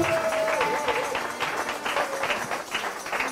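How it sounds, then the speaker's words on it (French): A church congregation claps and cheers together, a steady patter of hands with voices mixed in, while a person speaks over the applause. "On acclame pendant qu'il rentre."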